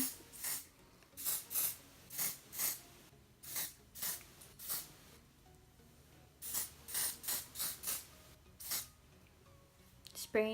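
Short bursts of aerosol foundation spray being sprayed onto a face hiss repeatedly, close up, in quick irregular puffs separated by brief pauses.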